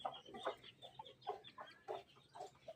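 Rooster and hens in a village farmyard cluck in repeated short bursts, close and fairly loud, with no talking.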